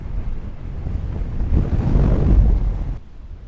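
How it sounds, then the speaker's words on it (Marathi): Strong wind at Manikdoh dam reservoir near Junnar buffets the microphone with a loud, continuous roaring rumble that builds toward the middle and then drops off, with no talking. "वारच लय आहे इथं."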